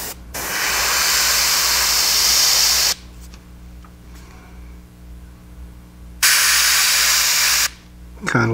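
An airbrush sprays opaque black paint through a stencil onto a fishing lure: two loud, steady bursts of hissing spray, each a few seconds long, with a quieter gap between them and a short burst at the end.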